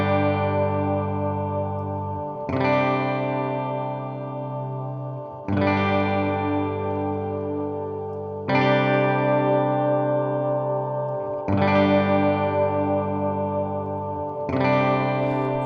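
Sustained synth-like chords processed through a spring reverb, each held chord changing every few seconds with a smeared, washy tail blending into the next, dense and steady with no talking.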